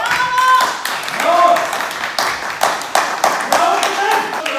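Several people clap in a home setting, sharp uneven handclaps close by, with excited voices and cheering mixed in throughout.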